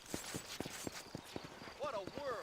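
In Red Dead Redemption, horse hooves clip-clop in a quick, evenly spaced series of distinct thuds, followed by a short whinny-like tonal call, all faint and close.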